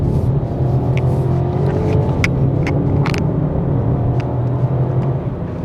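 A VW T-Cross R-Line SUV pulls away through a roundabout with a steady close engine rumble and road noise. A few light clicks and taps sound over the drone.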